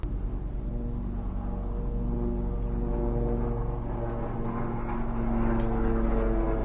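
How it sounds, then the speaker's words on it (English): Several helicopters hovering overhead, a steady low droning hum with layered engine tones holding throughout, moderately loud and unbroken, with no speech. "All of a sudden there were like so many helicopters hovering about."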